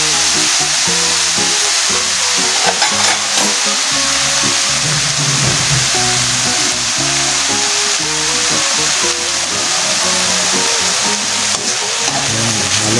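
Mixed vegetables, including banana blossom and turmeric from the garden, sizzling loudly in a pan while being stirred, a steady close frying hiss with intermittent scraping of the spoon throughout.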